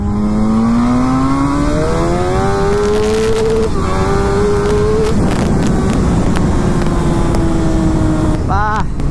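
A Suzuki GSX-R1000 motorcycle accelerates hard, its loud, close engine note climbing in pitch and dropping back at each upshift across several gears, with a brief higher whine near the end.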